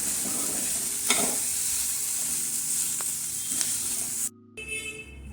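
Cooked rice is tossed into stir-fried vegetables in a hot pan for fried rice, a continuous close sizzle broken by a few scraping knocks of the spatula, then a brief cut to quieter sound.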